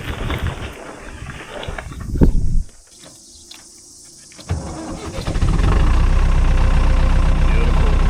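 A vintage David Brown 1200 orchard tractor cranks, fires up quickly and settles into a loud, steady close-up idle, with brief rumbles before a quiet pause and then the continuous engine note.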